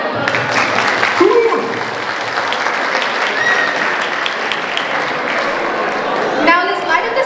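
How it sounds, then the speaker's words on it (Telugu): Sustained audience applause at an Ugadi celebration stage show in Sydney, Australia, loud and continuous clapping from a crowd in a hall, with brief shouts and a voice near the end. "గట్టిగా క్లాప్స్ కొట్టండి"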